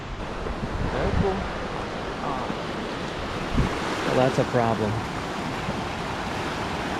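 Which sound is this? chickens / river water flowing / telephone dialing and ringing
river water flowing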